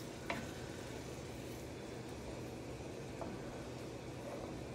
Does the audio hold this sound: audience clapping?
no